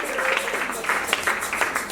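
Applause rises from a church congregation during a sermon, a dense patter of many hands that swells and ebbs steadily for the whole stretch, close and fairly loud.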